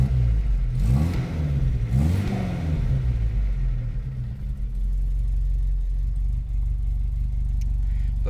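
A 1971 Vauxhall Firenza pulls away with its engine revving up twice in quick rising sweeps, then settles into a steady, close mid-pitched drone with a low rumble as the car cruises.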